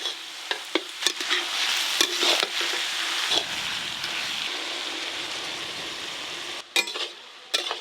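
Chopped onion crackles and sizzles in a pan while a utensil stirs and scrapes, leaving scattered sharp clicks over a steady frying hiss.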